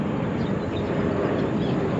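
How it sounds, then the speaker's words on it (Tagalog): An airplane passes overhead above an outdoor rural spot with birds and trees nearby, giving a steady, broad, continuous rumble that holds evenly throughout, with no talk. "At ayun ang eroplano."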